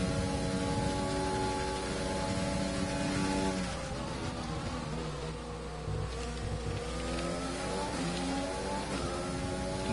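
F1 racing car engines in a video game race along the Casino straight at Monaco, a loud continuous high-pitched whine with shifting pitch as cars run flat out and pass, no talk.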